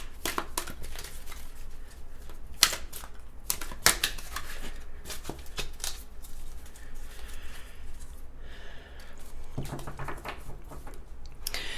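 Rapid riffling and soft papery flicks, with sharper snaps around the third and fourth seconds, as a deck of tarot-style cards is shuffled nearby.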